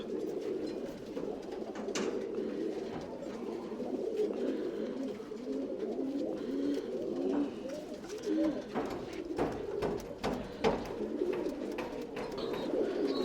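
Tumbler pigeons in a loft coo continuously in low, rolling, overlapping calls, with faint wing flutters and background movement and no voices.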